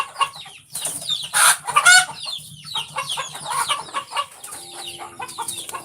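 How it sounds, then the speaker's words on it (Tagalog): Chickens and chicks clucking close by, with a busy chorus of short overlapping clucks and high peeps, some louder bursts of calls, and a faint mechanical hum underneath. "Marami tayong manok dito, marami."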